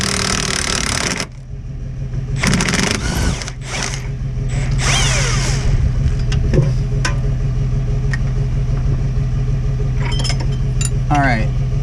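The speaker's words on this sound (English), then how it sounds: "I'm just going to try to get a wrench on it." A wrench works on a rear axle bolt of a 2003-2008 Honda Pilot, with metallic ratcheting clicks, clinks and mechanical rattles over a steady background hum, close to the listener.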